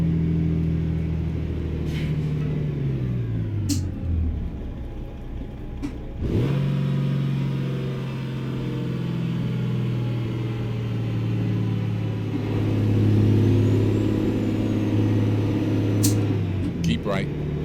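Kenworth W900B heavy-haul truck with a CAT C15 engine accelerating under load on the Trans-Canada Highway while losing power; a deep, steady engine drone fills the cab, rising slightly, with someone talking over it.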